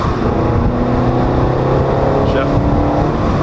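A turbocharged Subaru Crosstrek accelerating under boost, heard from inside the cabin as a loud, steady engine drone with rising whine and road roar.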